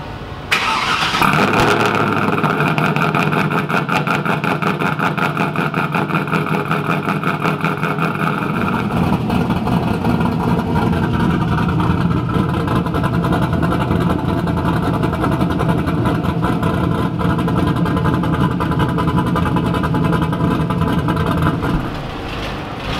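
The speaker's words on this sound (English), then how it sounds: "here's a cold start of the Trans Am" A Pontiac Trans Am V8 cold-starts with a sharp crank and catch, then settles into a loud, steady, rumbling high idle that drops slightly partway through and runs on close and alone.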